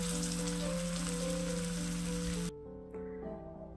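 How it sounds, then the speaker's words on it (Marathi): Aloo tikka potato patties frying in hot oil, a steady close sizzle and crackle that drops abruptly to a quieter, thinner bubbling midway. "हे बघा, अशा पद्धतीनं हे आपण असं तळून घेणार आहोत."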